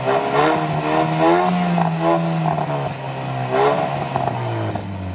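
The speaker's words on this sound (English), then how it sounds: "Ford performance engineers have tuned 3 times the exhaust system to deliver this sporty sound." A 2017 Ford Focus RS with a 350 hp engine and tuned sporty exhaust revs loudly and close by, its pitch rising and falling through repeated throttle blips with a raspy, crackling edge.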